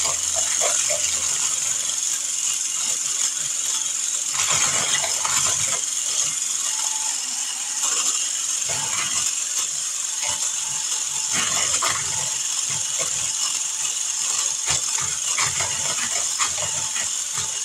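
An electric mixer beats chocolate parfait ingredients for a KFC copycat dessert, giving a steady, loud motor whir with a high whine and light rattling that runs the whole time without a break.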